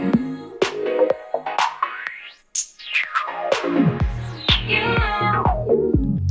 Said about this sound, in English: you can turn that filter resonance up if you want that really squelchy sound